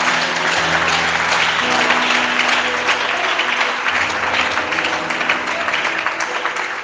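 A church congregation applauds and cheers in praise of the Lord, a dense sustained roar of clapping and acclaim that fills the room from start to finish.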